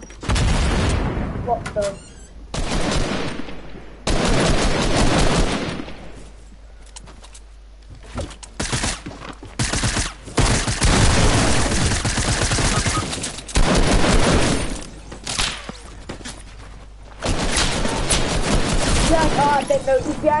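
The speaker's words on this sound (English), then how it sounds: "is that you shooting at someone?" Rapid bursts of gunfire, someone shooting, crackle loudly in repeated volleys with short pauses between them, while voices talk and exclaim over the shots.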